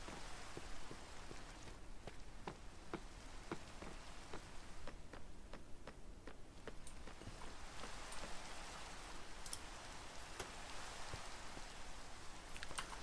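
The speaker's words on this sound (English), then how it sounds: "It's raining, damn it." Steady rain pours in a Lord of the Rings video game, a constant hiss of drops on surfaces with scattered sharper patters, even and moderately quiet throughout, with no voices.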